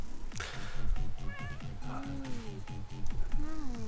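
A cat in The Sims video game meows repeatedly in a lively run of rising and falling calls, loud and up front over soft game background sound.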